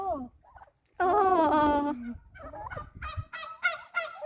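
Turkeys gobble nearby in loud, warbling bursts, one long call followed by several shorter rapid ones. A person briefly murmurs at the start.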